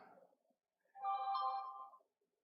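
A phone ringtone chimes once, a clear melodic electronic tone lasting about a second after a brief muffled noise, then silence.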